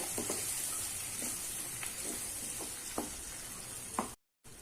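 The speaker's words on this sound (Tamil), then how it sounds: "இப்போ இந்த சட்னியை ஒரு நிமிஷம் வதக்கினா போதும், ரொம்ப வதக்க தேவையில்லை." Chettinadu-style kara chutney, a ground red chutney, sautéing in a pan with a steady close sizzle and occasional stirring scrapes, briefly cut to silence near the end.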